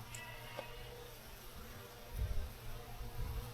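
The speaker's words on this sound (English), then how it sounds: "This is looking like a lot of bees together" A cluster of bees buzzing beside a hiking trail in the Yorkshire Dales, a faint continuous hum under wind and low rumbles, with no speech.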